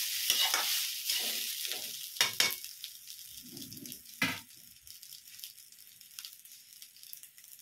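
Rice and salt are stirred together in a hot pan, with scraping and tossing strokes in short bursts over a soft sizzle, close by and with no voices.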